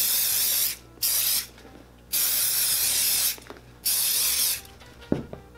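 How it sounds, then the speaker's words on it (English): Conditioner is misted from a spray bottle onto a smooth leather boot in four steady hissing bursts of about a second each, close and clear, followed by a light tap. "you're just going to give a light mist all over the boot"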